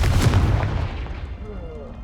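A Confringo blasting spell explodes in Hogwarts Legacy, a single loud, close boom that decays over about two seconds into a rumbling tail.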